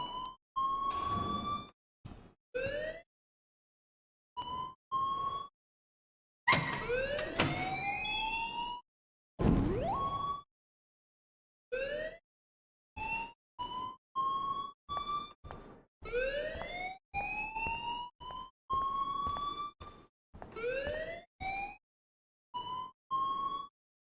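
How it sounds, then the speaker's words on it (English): An electronic alarm in the video game Life is Strange rings in short repeated bursts, each a rising siren-like whoop with bright tones, cycling on and off with brief silent gaps, loud and alone. "please turn off that alarm since that's your job"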